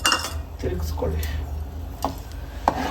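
A ladle stirs a pot of boiling moong dal, scraping and clinking against the metal in a few irregular strokes, close and fairly loud over a low simmering rumble.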